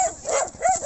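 Dogs bark and yip in quick, overlapping bursts on a farm, loud and close, with a brief whine between barks.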